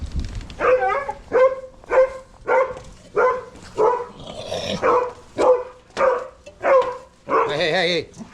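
A dog barks repeatedly near the microphone, about a dozen evenly spaced loud barks with a rough, growly edge, ending in a longer drawn-out howl-like yelp.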